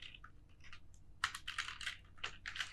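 Rapid typing on a computer keyboard while entering data into an Excel sheet, quiet close keystrokes in quick irregular bursts with a short pause before a denser run.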